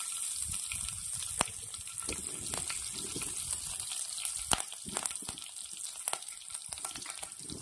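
Chili sizzling in a hot pan of oil, a steady close crackling hiss with scattered pops and light stirring clicks, no talking.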